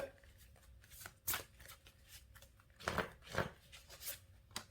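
Cards being shuffled and handled during a tarot reading, a close, quiet series of papery riffles and flicks with irregular pauses between bursts.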